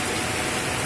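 Rain pours steadily in Lampung, a loud, dense, close hiss of drops striking surfaces that holds an even level from start to finish.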